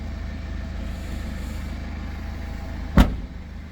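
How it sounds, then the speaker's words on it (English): A 2014 BMW X3 xDrive 20d SE with a 2.0 litre 181 bhp diesel engine idles nearby with an even, low rumble. A single sharp knock sounds near the end. "Diesel 2 litre."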